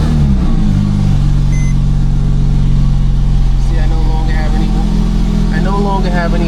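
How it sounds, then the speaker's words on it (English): A Porsche 997 sports car engine starts and settles into a loud, steady idle with a deep low rumble, heard close up with the front hood open, while someone talks over it. "we start the car up."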